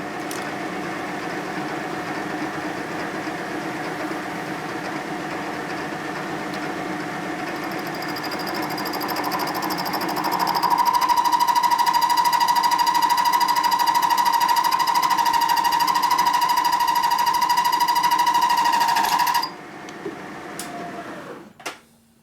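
Reamer cutting a pinion bushing in a Harley shovelhead cam case, a steady close machining whine with chatter that grows louder and holds a bright sustained tone before the cut stops abruptly near the end, with no talk.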